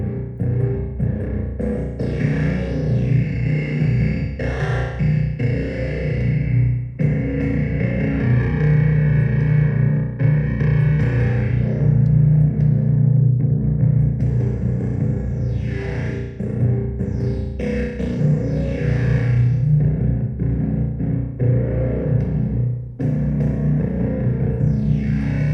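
A DIY synthesizer with its feedback button engaged gives a continuous, loud, distorted drone with shifting resonant tones and swept filter changes, with no speech over it.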